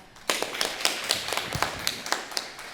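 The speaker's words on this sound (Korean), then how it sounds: "강사님께 우리 한 번 더 박수 부탁드리겠습니다" A small audience claps at the end of an academic conference tutorial session, scattered overlapping claps for a few seconds, fairly close, with no talking.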